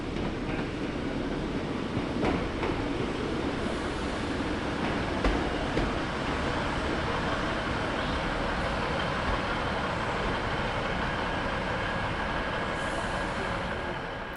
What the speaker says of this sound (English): the sprinter in the holding siding moved out, crossed the junction, and then reversed back into platform 2